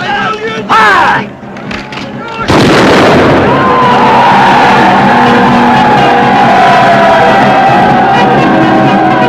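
Number 2 company fires a volley of gunfire, a sharp loud blast followed by a long roaring wash of noise and crowd clamor, after brief shouting.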